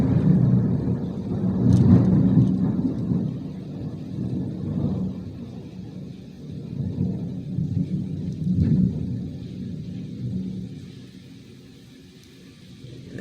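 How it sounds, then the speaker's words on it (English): Thunder rolls through a rainstorm as a long, low, distant rumble that swells and fades for over ten seconds, with no one speaking over it. "And you just heard the thunder."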